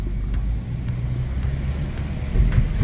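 A Kia Pride 1.4 MPI sedan's low road rumble fills the cabin, then a heavy thump and jolt near the end as it runs hard over a speed bump.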